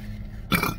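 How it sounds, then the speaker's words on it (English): A single short, loud burp bursts out after a quiet moment from someone eating a Burger King original chicken sandwich, close to the microphone. "And burp."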